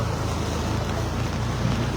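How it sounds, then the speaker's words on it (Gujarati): A car drives slowly through a flooded residential society street in Vadodara's Panigate area, giving a continuous close engine rumble with the wash of water around it and no talking. "અમારા કમલેશભાઈ જોશી ગાડી ચલાવી રહ્યા છે"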